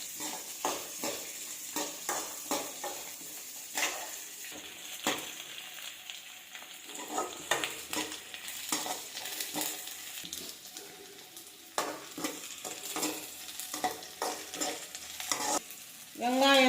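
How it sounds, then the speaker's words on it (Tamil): Small onions sizzle in a hot pan for sambar, stirred with a spoon in repeated scraping strokes against the metal. The frying hiss stays low and close beneath the stirring, and no one speaks. "ஒரு கைப்பிடி சின்ன வெங்காயம் போட்டு வதக்கிக்கலாம்"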